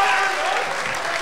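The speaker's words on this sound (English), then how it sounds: "please continue a round of applause for Matthew McAloon" A round of applause from an audience at a Monday evening competition in a pub-style venue, dense steady clapping that fills the whole moment.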